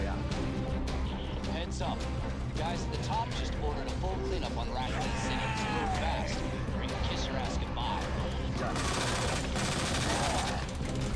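Rapid gunfire in Resident Evil 2 (2019), a dense burst of shots running continuously and loud, with a brighter, harsher stretch near the end and a voice talking over it.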